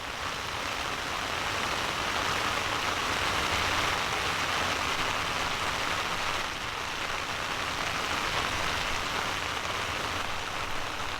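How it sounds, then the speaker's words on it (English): Steady rain falls throughout, a dense even hiss of drops hitting a surface, moderately loud and unbroken with no voices. "every single time we do it, we get a little bit of rain"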